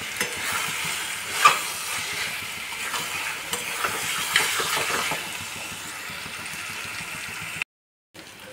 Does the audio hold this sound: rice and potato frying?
yes